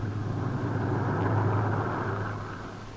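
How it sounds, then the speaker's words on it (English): WWII bomber aircraft engines returning to base drone as a steady, dense roar with a low hum underneath, holding even for a few seconds before easing slightly, with no voices over it. "the bombers returned to their base"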